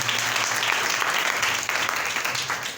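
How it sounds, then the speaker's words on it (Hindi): A church congregation bursts into loud, sustained applause, dense clapping from many hands that holds steady and then tapers slightly toward the end. "जोरदार तालियां खुदा उनके लिए।"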